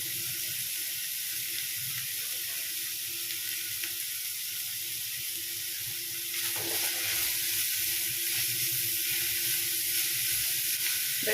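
Grated carrot and beetroot frying in a pan for a roti roll filling, a steady loud hissing sizzle that continues throughout, close up and without talk.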